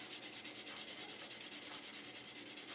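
Steady rhythmic scraping of a guitar nut being sanded on 180-grit sandpaper, close and continuous with even back-and-forth strokes, no talking.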